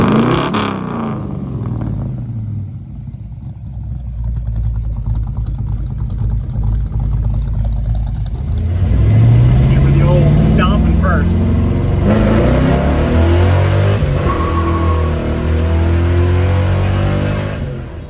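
1964 Mercury Comet V8 fitted with Patriot headers and custom mandrel-bent exhaust, idling and then revving up loudly to a deeper roar before settling, recorded close.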